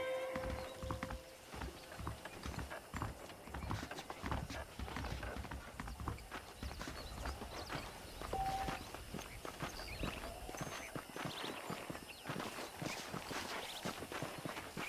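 Horse hooves clip-clop steadily on a ranch in Red Dead Redemption, a continuous walking rhythm over faint ambient background with an occasional soft snort.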